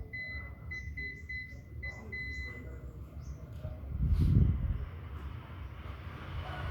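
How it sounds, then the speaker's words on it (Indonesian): A series of short electronic beeps in an irregular rhythm from a multimeter continuity buzzer testing a phone power-button circuit, over a steady background rumble, followed by a dull thump. "pakai multitester di mode buzzer untuk memastikan bahwa jalurnya tidak putus"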